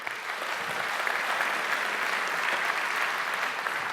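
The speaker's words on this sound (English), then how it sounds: "Please give him a big round of applause." Audience applause welcoming speaker Sam Aaron at the opening keynotes of Luminis DevCon 2018, a steady, dense wash of clapping that holds at full strength across the whole four seconds with no talk over it.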